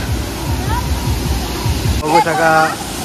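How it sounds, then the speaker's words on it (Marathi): A loud, constant roar of a waterfall fills the scene, and voices talk over it toward the end. "सगळेजण आता धबधब्याचं ओशन बघू शकता"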